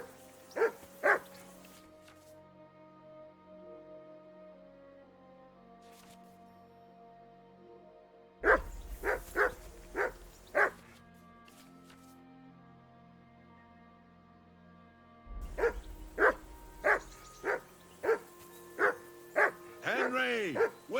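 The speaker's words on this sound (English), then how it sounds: "Whistle at that mutt of yours to stop barking!" A dog barks in the video game Kingdom Come Deliverance II, loud repeated barks in bursts with pauses between them, over a steady background music bed and some game voices.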